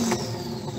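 A Lamborghini with turbochargers revs hard up close, a loud continuous engine roar that swells and holds through the short burst.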